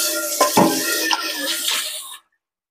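A large metal wok clanks and scrapes close by, with a couple of sharp knocks amid watery sizzling while cooking tom yum, cutting off abruptly.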